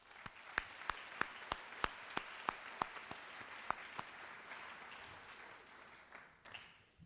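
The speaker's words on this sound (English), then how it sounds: "If you could please give them a round of applause" Applause at a school scholastic honors night for coaches, advisors and families: sharp distinct claps at a fairly steady rhythm over a softer crowd clapping wash that fades toward the end, moderately faint and distant.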